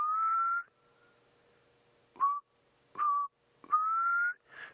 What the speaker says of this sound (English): And I can hear a black cuckoo calling too in the distance.